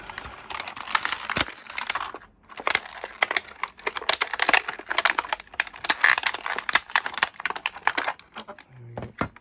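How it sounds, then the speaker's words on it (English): Snipping and crinkling plastic as a part is cut free from a blister pack of a Fanhome Robocop model kit, with close irregular clicks, cracks and crunches in bursts and brief pauses. "that's very well caught in the blister pack. Let's see if I can cut it out"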